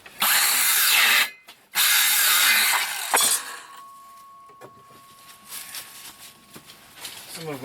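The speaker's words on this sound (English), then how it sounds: "I'm cutting furring strips" A power saw cuts wooden furring strips for tiny house loft walls in two loud close bursts, followed by a clatter of wood and quieter handling sounds while a person talks.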